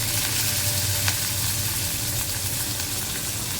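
Curry leaves sizzle and crackle in hot oil in a pan while a Telugu-style moong dal curry with drumstick leaves is cooked, a steady close, loud frying hiss with one brief pop, no talking.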